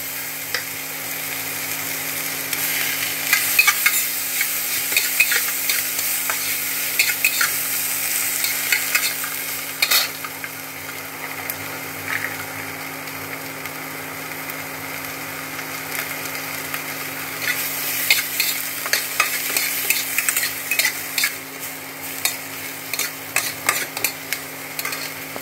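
Onion and capsicum fry in butter in a pan, a steady close sizzle broken by bursts of scraping as the spatula stirs them, with no voices.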